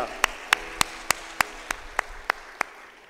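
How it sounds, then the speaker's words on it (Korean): A church congregation at a Friday worship service claps in unison, about nine sharp, evenly spaced claps ringing out in a steady rhythm with no talk over them. "하나님께 영광의 박수 드립니다"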